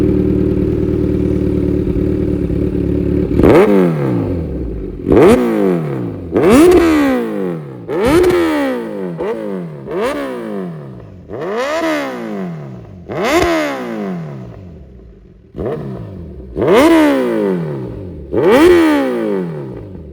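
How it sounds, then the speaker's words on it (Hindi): A Kawasaki Z900 motorcycle engine roars through about ten sharp, loud revs, each climbing quickly and dropping back, with brief idle gaps between them and no talking. "अब आपको ना इस बाइक की एक बार आवाज़ सुना देते हैं"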